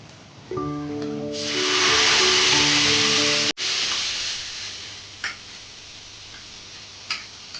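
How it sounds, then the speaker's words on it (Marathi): Moong dal for varan being added to a sizzling tempering in a pot, a tonal ring giving way to a loud close hiss for a few seconds, then quieter bubbling with a few soft pops. "डाळ आपली उकळली आहे"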